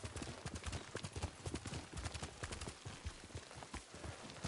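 A horse gallops in the video game Ghost of Tsushima, its rapid, rhythmic hoofbeats pounding close and loud for the whole stretch without a break.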